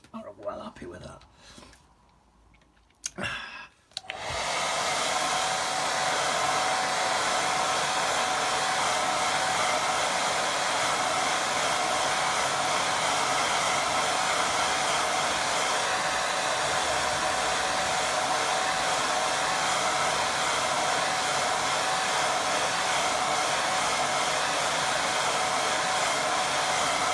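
A hair dryer dries a watercolour painting, running as a loud, steady whir for most of the clip after a few quiet seconds with faint handling sounds.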